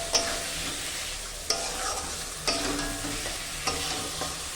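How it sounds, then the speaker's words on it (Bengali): Egg and potato are stirred and sautéed in a pan, a steady sizzle broken by four evenly spaced sharp scrapes of a utensil against the metal, close and clear with no talking. "ডিম আর আলু রেডি করে নিয়েছি, এবার হলো এগুলোকে কষাবো ভালো করে।"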